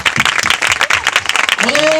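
A church congregation claps loudly at a church consecration ceremony, a dense burst of applause running throughout, with voices mixed in and a rising tone near the end.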